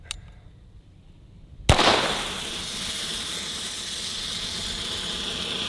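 A sharp, loud bang of a flare gun fired as a self-defense test, followed by a long sustained hiss that fills the rest of the clip.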